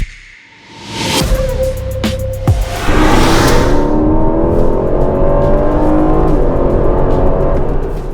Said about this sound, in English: Say hello to the Aston Martin Vantage F1.